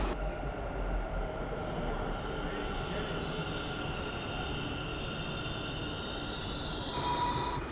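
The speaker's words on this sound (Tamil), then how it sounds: "மெட்ரோ ட்ரெயின் வருது." A Bangalore metro train pulling into a station, a steady loud rumble of wheels and motors holding throughout, with a faint high whine appearing near the end.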